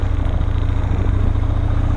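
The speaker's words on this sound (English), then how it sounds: "if I shut it down, you can still hear that engine" An American-made sport motorcycle idles close by, picked up by a helmet camera with the visor open: a loud, steady low throb with a constant pulsing beat and no talking.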